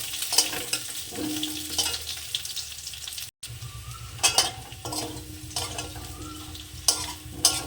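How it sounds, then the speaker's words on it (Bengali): Cauliflower and potato pieces fry in oil left over from frying fish, a soft continuous sizzle broken by stirring scrapes and light clinks of a utensil against the pan, with a brief gap midway. "ফুলকোটাকে আমি একটু ভেজে নেব"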